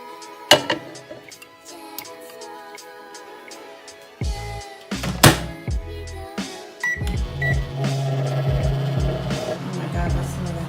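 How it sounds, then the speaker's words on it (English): A microwave oven runs with beauty blenders in soapy water inside, giving a steady hum after a few clunks and beeps as the door shuts and it starts. "into the microwave we go."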